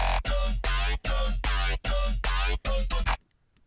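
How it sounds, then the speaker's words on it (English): Dubstep bass loop, a loud gritty growling synth bass chopped into rhythmic sustained blasts with short gaps, heavy low end and bright buzzing harmonics, ending abruptly into near silence. "So I'm going to load up a dubstep kind of bass loop from Splice"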